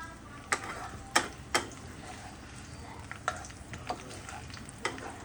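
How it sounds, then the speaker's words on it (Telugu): Green chillies fry in a pan with a low steady sizzle, broken by several sharp stirring clicks and spatula taps spaced irregularly, close and fairly quiet. "ఇవి కొంచెం వేగాలి ఫ్రెండ్స్ పచ్చిమిరపకాయలు"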